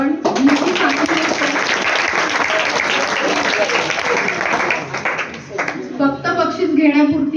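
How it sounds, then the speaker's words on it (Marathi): Sustained applause from an audience at a high school prize distribution ceremony, dense clapping throughout that dips briefly near the end and then swells again, with voices mixed in. "एकदा मुलांसाठीच टाळ्या वाजवाव्यात आपण"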